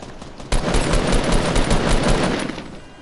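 Gunfire in Fortnite Battle Royale, loud, dense and continuous, a rapid barrage of shotgun and automatic shots bursting in after a brief quieter moment and rattling on for about three seconds.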